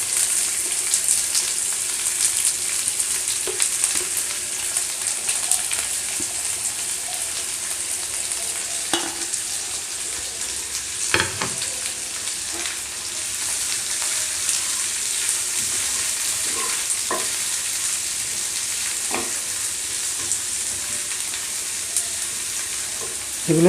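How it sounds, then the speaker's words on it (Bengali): Finely chopped onions frying in oil in a home kitchen, a loud, continuous sizzle with occasional sharp clicks and scrapes from stirring, no voices. "এবার আমি দিয়ে দিচ্ছি এতে কুচনো পেঁয়াজগুলো।"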